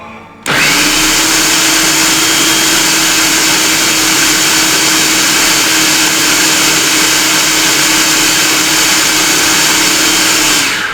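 A food processor whirs steadily and loudly while grinding a chocolate hazelnut biscotti mixture, a constant high motor whine with no breaks that runs for about ten seconds, close up and with no talk over it.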